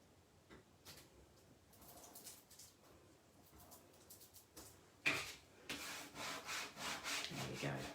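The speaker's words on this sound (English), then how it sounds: "give it a good rub with the back of the squeegee to activate the adhesive" Oracal 638 wall vinyl is rubbed firmly with the back of a squeegee, giving close, dry scraping strokes that start faint and sparse, then grow louder and more rhythmic in repeated back-and-forth passes.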